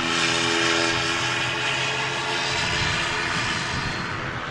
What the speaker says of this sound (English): Super early rotation there on the A320 Neo with Lufthansa